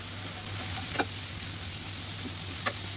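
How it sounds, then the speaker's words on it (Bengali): A steady, soft sizzle of ground cumin, turmeric, chilli and coriander frying in a pan with occasional light scrapes and taps as it's stirred; a low hum runs underneath. "ভালো করে নেড়ে এখন একটু ভাজা ভাজা করব"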